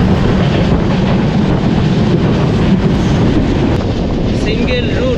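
The Kanchankanya Express runs through jungle on a single-track hill route, its loud steady rumble and rattle mixed with wind noise from an open window.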